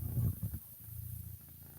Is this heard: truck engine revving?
no